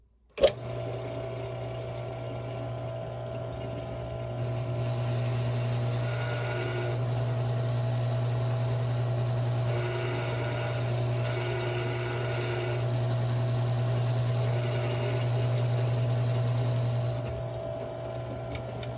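A drill bit bores steadily through lubricated metal with a continuous close whirring drone, its pitch and intensity shifting slightly as the cut progresses, no voices heard.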